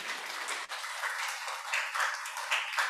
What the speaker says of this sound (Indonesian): Tepuk tangan dulu buat sekolah minggu.